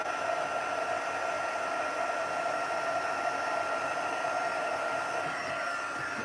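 A craft heat tool blows hot air in a steady, continuous whoosh with a faint motor whine, close and fairly loud, running alone without pause.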